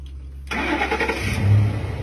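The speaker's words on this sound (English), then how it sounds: "Stick the key back in the ignition and start the engine." A car engine is started with the ignition key: a short quiet lead-in, then the engine cranks and catches, settling into a steady running rumble for over a second, with no talking.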